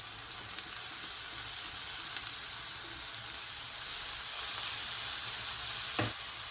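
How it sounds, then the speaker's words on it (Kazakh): Minced meat added to onions already fried until golden in a pan sizzles steadily and loudly, a continuous broadband hiss with a brief louder crackle near the end and no voices. "Енді келесі осының үстіне фаршымызды саламыз."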